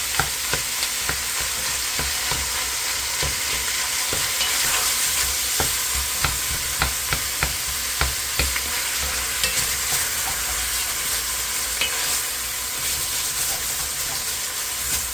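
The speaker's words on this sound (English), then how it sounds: "So right here I have some 80-20 ground beef. Gonna get that in there. Chop it up, move it around." 80-20 ground beef sizzles in a hot pan while a utensil chops and pushes it around, producing repeated sharp scraping taps over a constant frying hiss, close up and without speech.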